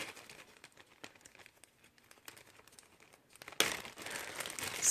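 Soft crinkling of a plastic bag as a glue sponge is taken out of it, faint scattered rustles that turn into louder, denser crackling near the end; no voices.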